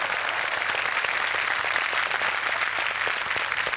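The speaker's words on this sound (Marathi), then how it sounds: "रीमाजींसाठी जोरदार टाळ्या" A continuous wash of enthusiastic clapping comes from a studio audience at a Marathi comedy show, even and loud throughout with no voices rising above it.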